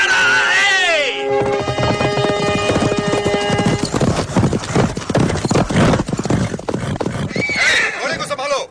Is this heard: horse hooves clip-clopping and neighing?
yes